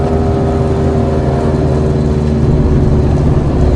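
A heavily modified mk2 Golf GTI engine drones loudly from inside the car while driving, a steady raw mechanical roar with strong low-end hum and no talk over it.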